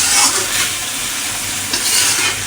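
Ground spices being stirred into baim fish frying with potatoes in a pan, a loud steady sizzle with scraping stirring strokes coming in rhythmic swells, close up and with no voices.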